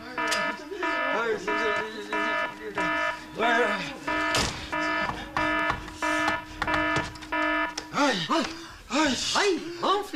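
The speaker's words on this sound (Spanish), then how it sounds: "esa chequera que tiene puesta la alarma esa que se dispara cuando menos uno se lo espera" A chequebook fitted with an anti-theft alarm goes off in a comedy sketch, a repeating electronic beeping pattern with stacked tones sounding loud and close, while gasps and exclamations break in toward the end.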